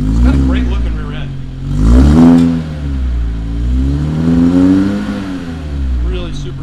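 A four-cylinder car engine revs up and down several times, a loud, close exhaust note rising and falling in smooth sweeps, with no voices.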